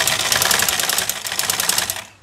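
A black sewing machine runs steadily while being adjusted, its rapid, even mechanical stitching clatter continuing close and loud before cutting off abruptly near the end.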